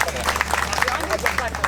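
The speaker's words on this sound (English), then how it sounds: "Give Anne a round of applause" A crowd at a freedom rally claps in a burst of scattered applause, dense and fairly close, over a low steady hum.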